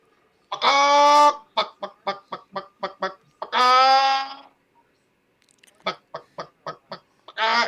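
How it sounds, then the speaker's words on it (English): Chicken clucks in bursts: two long drawn-out squawks each followed by a quick run of short, sharp clucks, loud and close with brief silent gaps between phrases. "Chicken."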